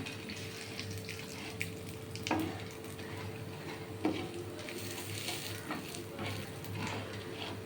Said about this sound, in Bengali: এই মশলাটা এইভাবে ভাজা হবে